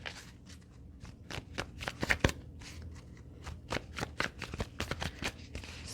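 Playing cards are handled and dealt close by on a quiet table, a string of crisp flicks and soft slaps in an uneven rhythm, with a brief cluster of sharper snaps midway.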